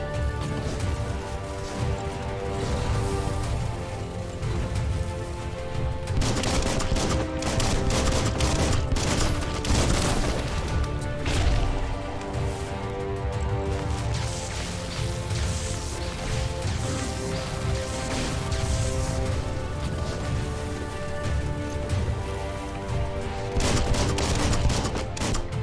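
Dense, continuous gunfire during a boss fight in the game Biomutant: rapid overlapping shots and impacts rattle on almost without a break, loud and close throughout, with no talking.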